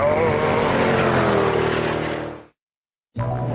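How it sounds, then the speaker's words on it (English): A Mercedes CLS 55 AMG engine growls hard under acceleration, a loud, steady, deep roar that fades out, drops into a moment of silence, then returns abruptly. "There's so much torque that when you put your foot down, you can actually hear it growling."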